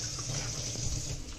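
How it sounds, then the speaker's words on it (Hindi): Water poured from a tap into a bowl of strained tamarind pulp in a home kitchen, a steady gushing splash lasting just over a second, alone and fairly close. "इसको अभी हम पानी डाल के और करेंगे"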